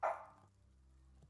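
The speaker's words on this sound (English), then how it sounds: "Sorry about my dog." A single dog bark sounds sharply at the start, fairly close but at modest volume, followed by a quiet room hum and a faint second yip near the end.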